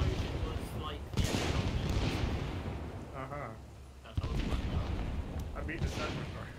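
Explosion from a satchel charge in the video game ArmA 3 erupts with two loud booming bursts, followed by a long rumbling roar and debris crackle. Faint voices can be heard under it.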